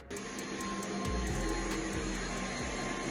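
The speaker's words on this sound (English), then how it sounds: "thank you for hoovering." Steady, loud vacuum cleaner hoovering that drones continuously from start to finish, with a few soft thumps in the low end as it moves across the floor.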